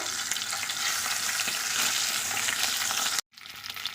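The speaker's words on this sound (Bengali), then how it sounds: "মুড়োটাকে একটু ভালো করে ভেজে নেব" A hilsa fish head crackles in hot mustard oil with an intense, unbroken sizzle up close; the sound cuts out for a moment, then picks up again a little quieter.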